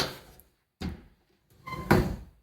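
A separate shower's own door in a compact Japanese apartment bathroom unit is worked three times, each a close thunk or clatter with brief pauses, the last the loudest.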